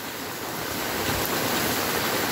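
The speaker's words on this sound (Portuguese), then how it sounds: "graças a Deus que agora o granizo, a chuva de granizo terminou. Agora só chuva com água mesmo." Heavy rain pours down steadily after a hailstorm in Rolândia, Brazil, a dense, continuous hiss with no voices and no breaks.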